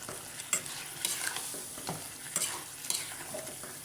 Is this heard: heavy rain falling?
no